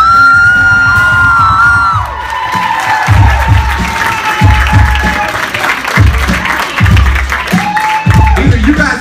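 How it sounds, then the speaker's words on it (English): An audience applauds and cheers for spoken word performer Thunderbird at a 2015 show, loud and continuous, with yells and whoops, while a voice speaks over the crowd in bursts. "Please give a big round of applause"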